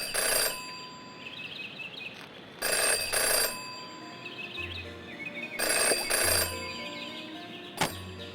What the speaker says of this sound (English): Jenny had learned never to ignore a ringing phone